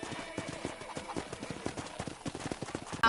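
Horses in a corral in the video game Red Dead Redemption clop their hooves in a steady, uneven patter, fairly quiet and close, with a faint voice at the very end.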